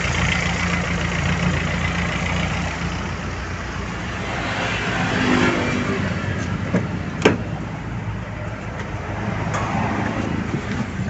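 A car engine idles steadily at around 800-900 RPM, a constant mid-low hum with slight roughness heard close, and a single sharp click partway through.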